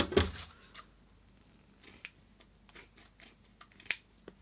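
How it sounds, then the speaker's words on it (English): A pair of poor-quality craft scissors makes several quiet, crisp snips at irregular intervals while trimming material for fishtank artwork. "Let's cut this bit off."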